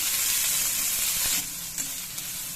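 Ridge gourd peel and green chillies sizzle steadily in a hot pan for a chutney, a dense frying hiss that drops slightly in level halfway through, with a few faint clinks of stirring.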